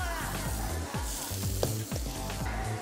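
Potatoes frying in a pan for homemade fries, a dense continuous sizzle with occasional stirring scrapes, close and loud over a low kitchen hum.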